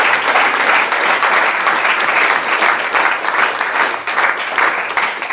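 A church congregation applauds during a worship service, dense, loud, continuous clapping filling the space without pause.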